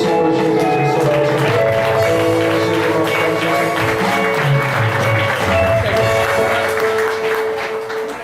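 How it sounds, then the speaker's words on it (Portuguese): Congregation applauding during an evening church service, loud continuous clapping layered over sustained organ or keyboard chords, fading slightly at the end. "Aplauda o nome do Senhor Jesus nessa noite."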